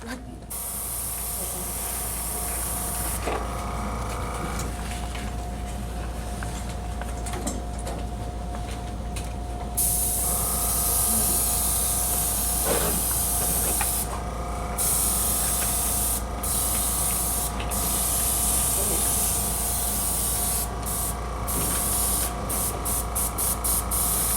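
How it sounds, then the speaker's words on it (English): An airbrush sprays moulage gel effects in a continuous close hiss. The hiss cuts in and out in short bursts, with a faint mechanical hum underneath. "she'll go straight to the airbrush."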